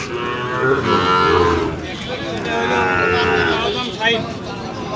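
Several Sahiwal cattle moo loudly nearby at a livestock market in Dinajpur, long drawn-out lowing calls overlapping one another amid a busy crowd murmur.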